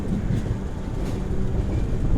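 Charminar Superfast Express rumbling along at Chennai Egmore, a steady low broadband roar of rolling rail cars with some wind noise, continuous and fairly close throughout.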